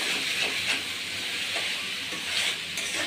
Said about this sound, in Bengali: ভালো করে সয়াবিনের সাথে আলুটাকে ভেজে নেবো